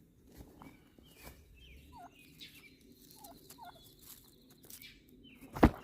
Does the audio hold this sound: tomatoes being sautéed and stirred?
no